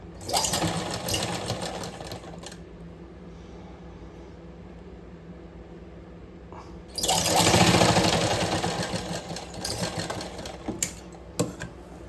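Sewing machine stitching cloth during a tailoring lesson, running in a steady loud whir for about two seconds, pausing to a quiet hum, then starting again for a longer continuous burst with a few clicks.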